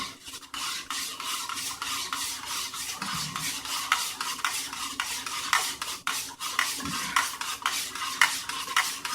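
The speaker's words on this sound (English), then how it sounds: "So let's stir this one a little bit better than I did that one." Spoon stirring a French military ration meal in its pouch or pot, a steady run of close, rhythmic scraping and rubbing strokes that carries on without a break and without any talk.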